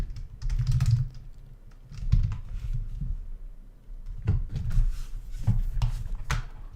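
Fingers clatter across a computer keyboard that has been malfunctioning, giving irregular bursts of close, crisp key clacks with brief pauses between runs and no voices.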